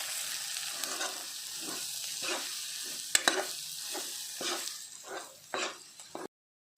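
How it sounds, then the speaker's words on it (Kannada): Turmeric, garam masala, sugar and salt frying in a pan for paneer cashew curry, a steady close sizzle broken by repeated stirring scrapes every half second or so, ending abruptly. "ಇದಕ್ಕೆ ಸ್ವಲ್ಪ ಫ್ರೈ ಮಾಡಿಕೊಳ್ಳುವ."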